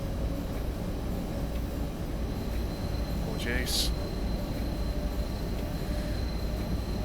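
DB BR101 electric locomotive throttling up from around 160 km/h in Train Sim World 2, a steady low rumble and drone with a brief higher whine, while someone speaks a word over it.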